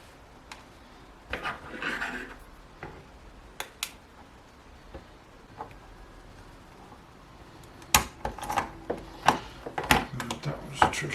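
Small screws being fitted on a camera shock mount for a DJI Flamewheel F500 drone give sparse, close clicks and faint scrapes, growing into a denser run of sharp ticks and taps toward the end.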